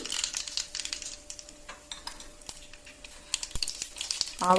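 Mustard seeds spluttering in about three spoonfuls of hot oil in a pan on a stove, giving scattered crackling pops and faint sizzle throughout, close and moderately quiet, with no talk.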